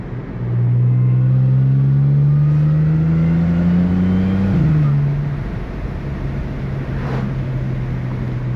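A supercharged Audi S4, a roughly 3,800-pound car, pulls hard down a straightaway, its engine note rising steadily and loudly for several seconds before a shift, then settling into a lower steady drone.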